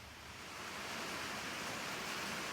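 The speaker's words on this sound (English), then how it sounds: "it's pouring down rain now, so you can hear the rain hitting the shop roof" Heavy rain pours down on a shop roof as a dense, steady roaring hiss that swells slightly at the start and then holds constant, with no talking.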